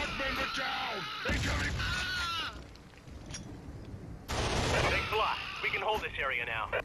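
A grenade explosion in the shooter game Killzone, heard at the docks, booms through loud, continuous gunfire and battle noise. A second heavy blast surges in partway through, with the combat din carrying on throughout.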